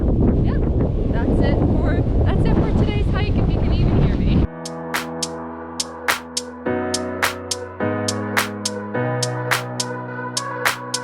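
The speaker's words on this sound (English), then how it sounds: "The weather was good other than the wind. Right on cue." Gusty wind on a hike near El Valle, a loud, rough rush buffeting the microphone for about four seconds before cutting off abruptly into music.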